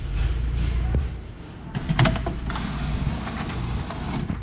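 A Sterling Digibinder perfect binder runs its milling and clamping cycle on a book, a low mechanical hum and rumble followed by a cluster of clacks and a steady whirring motor tone, close and fairly loud.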